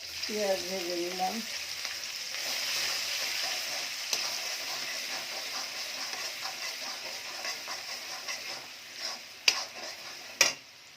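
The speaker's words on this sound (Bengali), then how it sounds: "পেঁয়াজ ভেজে নিলাম।" Onions frying in a pan after eggs were fried, a steady close sizzle that fades gradually, with a brief voice at the start and a few sharp utensil knocks near the end.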